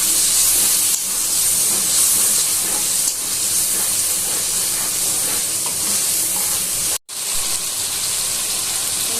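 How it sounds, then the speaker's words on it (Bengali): Spice paste with turmeric fries in a pan with a splash of water for a Bengali chicken curry, giving a loud, steady sizzle and hiss that runs throughout, cut by one brief break near the end. "একটু জল দিয়ে মশলাটা ভালো করে কষিয়ে নেব।"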